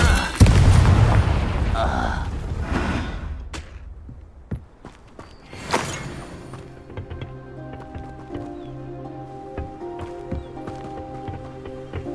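An explosive Confringo spell blasts in Hogwarts Legacy, a loud booming burst at the start that fades into rumbling debris, followed by a second smaller impact and lingering magical ringing tones.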